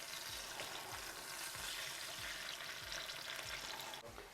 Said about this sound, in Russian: После того, как куриное филе подрумянилось с одной стороны